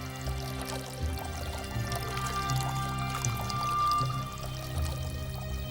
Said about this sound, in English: One jar of water steadily running into another.